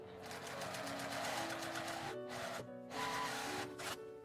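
A sewing machine edge-stitches the fabric of a quilted, insulated lunch bag in a steady, quiet whir, stopping briefly twice before running on again.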